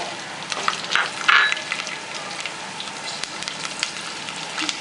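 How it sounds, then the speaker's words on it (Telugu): Garlic cloves dropped into hot oil with tempering spices, giving a close, steady sizzle with a louder burst of spitting in the first seconds that then settles into an even fry, no voices. "పోపు దినుసులు వేసుకున్న తర్వాత వెల్లుల్లి రెబ్బలు వేసుకోవాలి."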